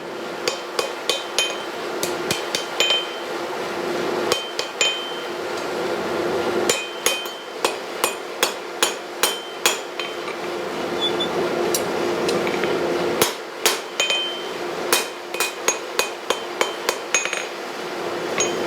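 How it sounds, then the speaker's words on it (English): Sharp hammer blows ring out on a 66-pound VEVOR steel anvil while straightening hot blacksmith tongs, landing in quick bursts of several strikes separated by short pauses, loud and close with no talking. "just heat it up and give it a quick straighten at the anvil"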